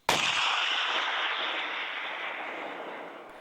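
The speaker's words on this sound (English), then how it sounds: "The 24-pound cannon had a very odd kind of bell-like tone when we shot it." A 24-pound cannon fires once with a sharp, loud blast that rings out and decays slowly over several seconds, with no voices.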